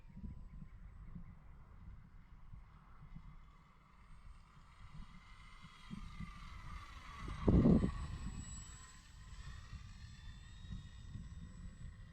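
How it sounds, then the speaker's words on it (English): An E-flite Valiant RC airplane flies overhead, its faint electric motor drone steady and distant, swelling briefly as it passes closer before fading back. "what a sweet flying plane"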